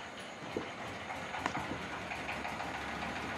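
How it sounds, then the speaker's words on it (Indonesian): Diesel engine driving a rice hulling mill for coarse husking, a steady broadband mechanical rumble with faint clattering, running continuously and fairly close with no talk. "Dan ini proses menghidupkan diesel mesin selip padi, dimana ini adalah mesin pertama untuk pengupasan kasar"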